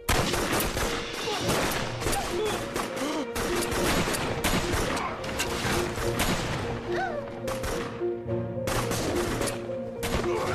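Sustained heavy gunfire in a war drama, dense rapid volleys of shots and bursts rattling loudly and continuously with almost no pause, a brief shout barely rising above it.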